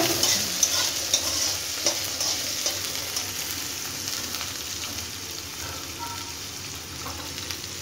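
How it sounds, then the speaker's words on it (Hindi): Onions browning in a frying pan, a loud continuous sizzle with an irregular rhythm of stirring and scraping strokes. "अब मैं इसमें प्याज ऐड करूंगी। प्याज को भी ब्राउन होने दूंगी।"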